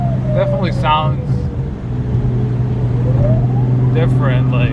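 An Audi B5 S4 with a boost leak lets out a rising and falling siren-like whine as the engine winds down after a pull, with a steady engine drone beneath and someone talking over it.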